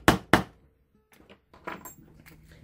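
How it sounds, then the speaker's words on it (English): A hammer strikes a metal rivet setter on leather armor, two sharp close thunks in quick succession followed by quieter handling taps and rustles. "Place and hammer."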